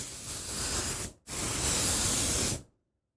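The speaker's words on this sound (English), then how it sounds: "A couple test sprays on the thing." Two bursts of spray paint hiss from an aerosol can, a one-second spray, a brief gap, then a longer spray of about a second and a half, close and steady, ending in silence.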